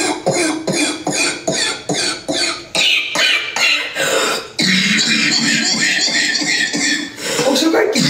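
A man coughing heavily and repeatedly, loud close bursts in a rapid rhythm followed by longer rough hacking, with no other sound around it.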